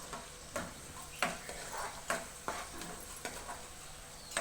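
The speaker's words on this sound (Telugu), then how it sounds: "కొంచెం అడుగు అంటకుండా కలుపుతూనే ఉండాలి." A spoon stirs ginger paste and turmeric frying with onions in oil, giving regular scraping strokes about twice a second over a soft steady sizzle, close and fairly quiet.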